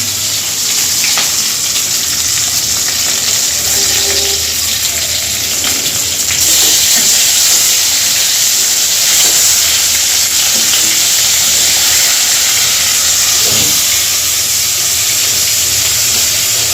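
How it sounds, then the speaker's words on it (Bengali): Onions sizzle and crackle steadily in hot oil, a loud continuous frying hiss with occasional soft clinks, no talking. "পেঁয়াজটা প্রায় ভাজা ভাজা হয়ে গেছে"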